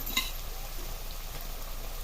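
Close, continuous crackling sizzle of a spice tempering frying in hot oil, steady and fairly loud with a faint clink near the start.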